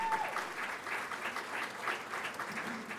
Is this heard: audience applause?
yes